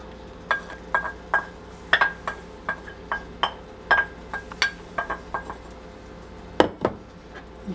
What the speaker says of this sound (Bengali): চিনিটা গলে গিয়েছে, এখন আমি রাইসগুলো আস্তে করে দিয়ে দিব।